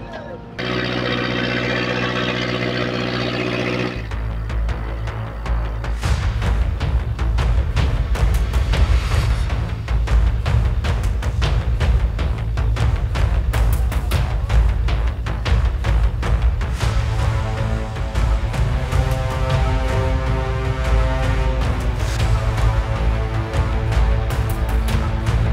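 A fishing trawler's engine runs at sea with a steady, loud mechanical drone and rapid knocking pulse, while people talk over it.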